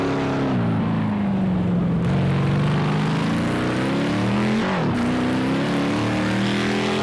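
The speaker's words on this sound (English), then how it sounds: "It sounds like an American muscle car, like a Corvette." Race car engine in Project Cars 2, a Group 5 car at Long Beach, roaring loudly and steadily with a deep, muscle-car tone, rising and falling through gear changes, including a sharp shift around the middle.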